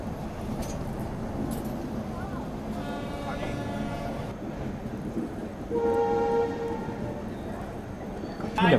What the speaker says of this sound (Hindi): बिल्कुल वाराणसी वंदे भारती है ये